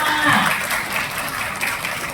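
An audience at a World Cancer Day lecture on lung cancer surgery applauds with a steady, dense wash of clapping that stays fairly loud and close before easing slightly at the end.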